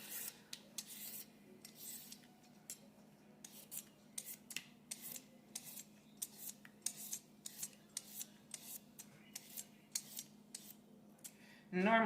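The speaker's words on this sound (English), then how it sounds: "This is the Pampered Chef peeler." A turnip is peeled with a Pampered Chef hand peeler, giving close, repeated scraping strokes in an irregular rhythm, short rasps separated by brief pauses.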